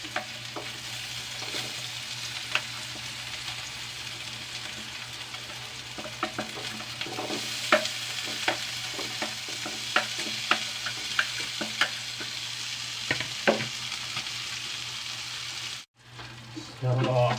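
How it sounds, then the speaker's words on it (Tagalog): Potatoes frying with ham in a pan, a steady close sizzle with scattered scraping clicks from stirring, continuing evenly before briefly cutting out near the end. "Tapos ilagay na natin tong patatas."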